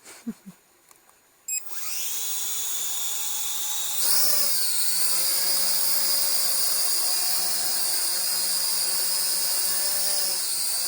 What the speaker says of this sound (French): on va voir si les deux drones vont décoller ensemble